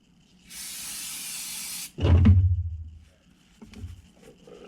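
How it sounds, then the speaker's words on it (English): Brake cleaner hisses from an aerosol can in one sustained spray of over a second, followed by rubbing and handling noises as hands are cleaned in a workshop. "A good old brake cleaner."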